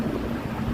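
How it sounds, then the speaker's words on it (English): Wind gusting across a microphone on a Chicago city street during a Greek festival, a brief, dense low rumble of buffeting with no clear pauses. "It's pretty windy today."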